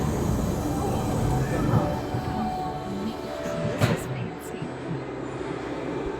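An underground Mail Rail narrow-gauge train runs through a tunnel beneath the Mount Pleasant sorting office in London, giving a steady, close rumble with rattling throughout and a brief louder clank partway through. No one speaks.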